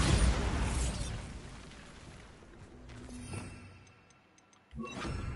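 A Bombarda blasting spell goes off in a video game, a loud booming burst at the start that fades into a long rumbling decay, with faint ticking and a second softer blast near the end.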